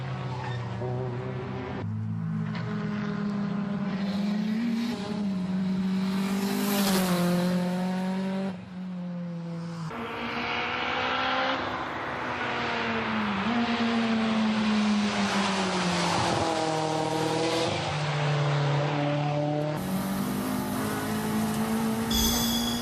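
HPI Nissan S15 drift car on a time attack lap at Tsukuba in D1 2005, its engine loud and near, revving up and down through gear changes with brief lifts off the throttle and tire noise, no talk.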